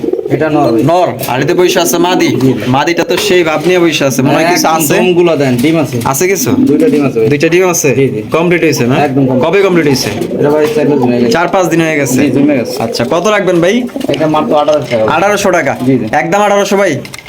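A lakha pigeon at a bird market coos in repeated, warm rolling calls under loud, continuous nearby talk by men.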